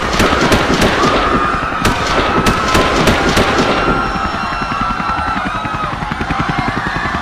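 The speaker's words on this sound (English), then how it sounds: "Several shots are heard, none of which are directed at SCP-096" Several sharp, loud gunshot cracks ring out in a rapid irregular burst during the first few seconds of a chaotic crowd scene, followed by a steady rumbling, engine-like drone, with no talking.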